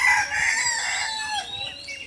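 Farm roosters crow loudly and close by, one long cock-a-doodle-doo trailing off, with other fowl clucking faintly underneath.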